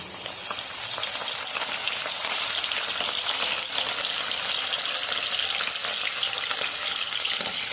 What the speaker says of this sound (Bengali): এবার চিকেনগুলো আমি একটা একটা করে এর মধ্যে তেলের মধ্যে ছেড়ে দেবো।